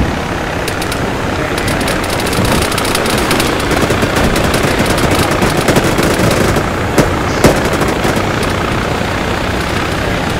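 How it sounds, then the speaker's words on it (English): Heavy gunfire rattles in ArmA 3 during a large infantry battle, sustained bursts of machine-gun fire and scattered shots crackling over a loud roar of vehicle engines throughout. "Disabled, but we're taking heavy fire."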